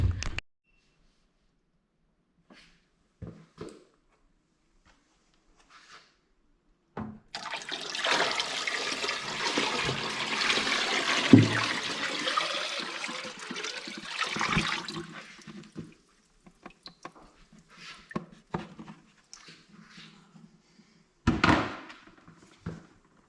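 Tap water rushes steadily into a bucket for about eight seconds while filling it to soak V8 Ranger pistons for scrubbing, followed by a few scattered clunks and light splashes.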